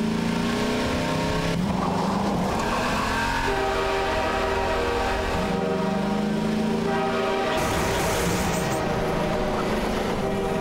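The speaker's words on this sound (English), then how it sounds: "if you touch that train, it gives you a game over" A train rumbles past on a bridge in the Half-Life 2 MMod first-person shooter, a loud continuous roar with droning tonal hums that shift in pitch as it goes by, with no break throughout.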